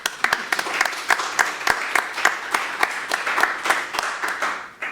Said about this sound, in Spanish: Un aplauso para Marisa también.